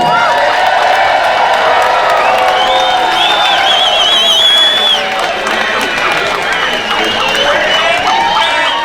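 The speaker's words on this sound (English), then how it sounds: "Would you give another round of applause for Randy Hillier?" An outdoor crowd at a Dominion Day rally at the Supreme Court cheers, whoops and claps for Randy Hillier, a loud, sustained roar of shouting voices over scattered applause.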